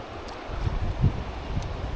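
Wind gusts buffet the microphone beside the Chattooga River during fly fishing, a low, uneven rumble that swells and fades over two seconds.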